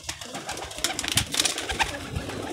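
A blue pigeon coos close by in a series of soft, throaty calls against a faint background of other birds.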